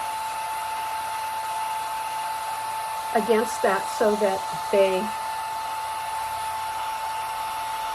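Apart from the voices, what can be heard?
hair dryer blowing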